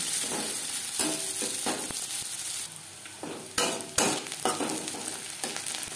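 Finely chopped onions, two of them, sizzle steadily in hot oil in a wok, with repeated scraping stirs of a spatula and a few louder crackling bursts, no talk.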